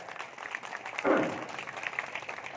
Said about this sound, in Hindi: मैं चाहता हूँ आप अपनी बेटी के सम्मान में तो अच्छा ताली बजाएं।